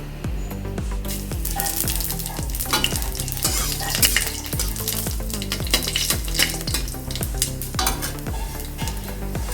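Panch phoron spices sizzle and crackle steadily in hot mustard oil with dried chillies for a tomato chutney, a close, continuous frying hiss with a stirring spoon scraping the pan, no voices.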